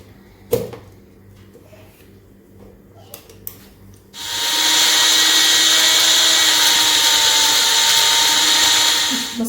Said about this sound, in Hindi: मैंने इसको मिक्सी जार में डाल लिया था। अब हम इसको ग्राइंड कर लेंगे ताकि एक अच्छा सा फाइन पाउडर बन जाए।